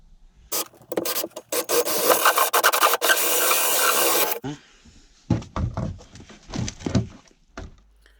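Wood being cut and rasped to form rebates for toilet seat hinges during a narrowboat fit-out: about four seconds of dense, continuous scraping, then a pause and a run of shorter separate strokes, close and fairly loud.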